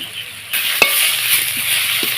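Cabbage with turmeric being stirred in a frying pan, a bright sizzle that jumps up as the spoon moves, with a sharp clink and a few soft scrapes, no voices.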